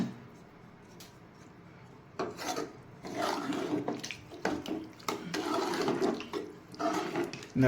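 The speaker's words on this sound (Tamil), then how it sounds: "இந்த மாதிரி கிளறி விட்டுக்கோங்க நல்லா" Scraping, rubbing strokes of a spoon stirring tomato rice in a pot, starting faint then growing louder in uneven bursts, with no talking.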